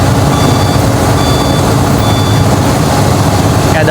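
An excavator at a road demolition site in Bekasi gives off steady, evenly spaced reversing beeps over a loud, continuous rumble of heavy diesel machinery, with no talking.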